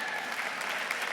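Audience clapping breaks out spontaneously at a sports awards ceremony, a faint, distant patter of hands with a voice faintly audible beneath it.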